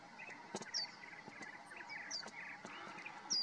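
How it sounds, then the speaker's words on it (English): A sparrow calling outdoors in San Diego County during spring migration, with short, thin chirps repeated several times over a faint background of insect-like buzzing. "Here's a sparrow."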